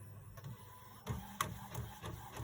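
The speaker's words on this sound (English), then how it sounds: "It's gonna print over here on the 7720" An Epson 7720 inkjet printer converted for sublimation printing runs nearby with soft mechanical ticks and clicks over a low motor hum, its print head passing in a steady, moderate rhythm.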